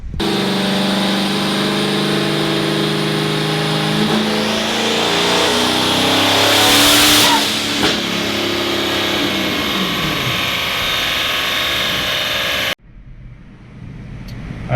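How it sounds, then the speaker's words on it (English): A twin-turbo Dodge Challenger on a dyno makes a loud, sustained pull: the engine revs climb steadily to a peak, then fall away before cutting off, leaving a short quieter tail. "we just got done making that pull"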